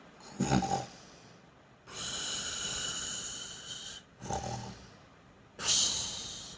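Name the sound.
voice imitating loud snoring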